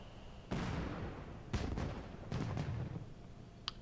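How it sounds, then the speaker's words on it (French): Several sharp booming blasts in quick succession in The Secret of Monkey Island, LeChuck's head exploding into fireworks, each followed by a crackling decay, ending with a brief high-pitched sparkle. "Et la tête de LeChuck explose en faisant des feux d'artifice"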